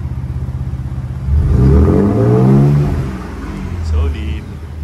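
A 2025 Ford Next-Gen Ranger Raptor V6 with 10-speed automatic in sport mode revs its exhaust, a loud deep idle swelling into a rumbling rev that falls back and rises briefly again.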